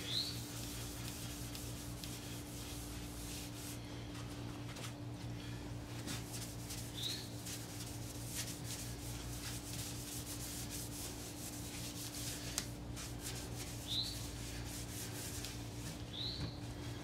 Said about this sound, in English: I'm applying a little wax, Renaissance wax